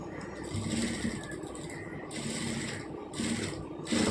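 A sewing machine stitching piping onto a blouse runs with a steady, fast mechanical whir and chatter, pausing and restarting in short runs at close range.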